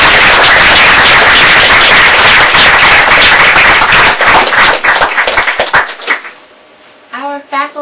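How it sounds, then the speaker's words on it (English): A literary reading audience gives student readers a loud, sustained round of applause that fades into scattered claps, followed by a voice starting to speak close to the microphone. "Let's give them all another round of applause."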